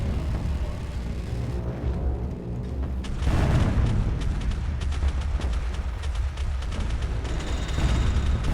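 Heavy booming blasts from Space Engineers cannon fire, including Nova Cannon hits on a ship grid, with a big impact around the middle and repeated crackling hits over a constant low rumble.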